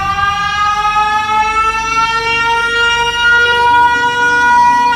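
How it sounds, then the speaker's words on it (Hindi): A loud, sustained electronic siren blares close up, a steady harmonic wail holding for several seconds with no other sounds. "गुल्ली वो लाल बटन दबा देता है, जिससे एक तेज सायरन की आवाज आती है।"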